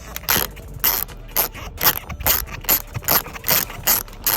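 Ratchet wrench fitted with a 10 mm socket loosening a tail light bolt on a 2013 BMW 328i, giving a steady run of sharp, close clicking bursts in a regular back-and-forth rhythm, with no talking.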